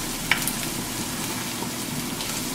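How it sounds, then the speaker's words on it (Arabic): Garlic fries with softened golden onions in a pot for a Kuwaiti stew, giving a continuous close sizzle with a faint click early on and no voices over it. "تالي احط الثوم واحمص، هني يبدي يطلع طعمه"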